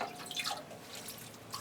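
Water dripping from a freshly watered clay pot holding a Cattleya orchid: a few faint, scattered drips and droplet ticks in a quiet space.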